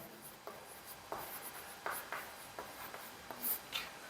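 Chalk or a marker writes on a board in a Class 12 physics lesson on Coulomb's law, giving repeated scratchy strokes and taps in a steady stop-start rhythm, close and clear with no talking.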